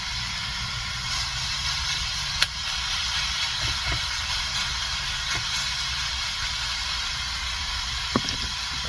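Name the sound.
pan-searing meat sizzling in a crowded pan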